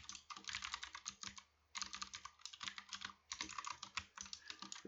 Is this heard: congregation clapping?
no